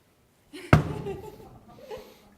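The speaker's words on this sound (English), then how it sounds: "I do, just give it a knock." A single sharp knock lands on the tempered glass of a solar hot water collector, loud and close, followed by a voice talking.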